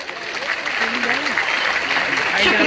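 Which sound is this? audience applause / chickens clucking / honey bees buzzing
audience applause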